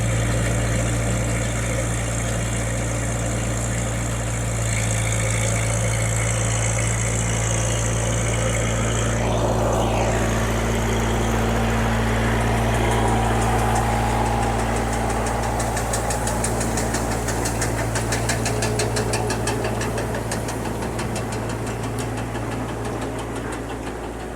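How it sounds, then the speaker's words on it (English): A tractor drives a hay baler through its PTO in a hayfield, a steady loud engine drone with low mechanical hum and rattling running continuously throughout, no talk over it. "So he's turned the PTO on. I see the belt going."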